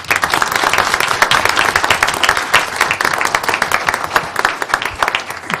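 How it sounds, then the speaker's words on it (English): An audience at a school board meeting gives a round of applause, a loud, close, continuous burst of many hands clapping that holds steady for several seconds. "we'd like to give you all a round of applause."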